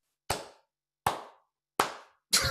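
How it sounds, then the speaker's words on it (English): Four slow, deliberate claps, sharp and close, evenly spaced about three quarters of a second apart with silence between them. "The slow clap, because you know it"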